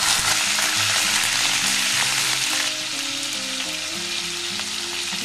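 Shrimp frying in mustard oil in a wok, a loud constant sizzle with hiss filling the whole stretch, easing slightly partway through, with a faint clink of stirring.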